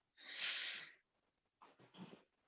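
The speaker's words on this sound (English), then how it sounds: "sneezing and making funny noises" A dog sneezing and snorting indoors, one sharp breathy sneeze followed by a pair of shorter snuffling snorts, close but quiet, with no talking.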